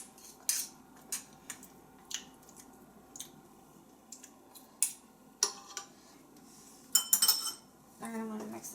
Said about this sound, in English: And I'm gonna mix this once more.